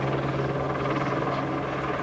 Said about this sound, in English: But news choppers don't just hover in place for no apparent reason.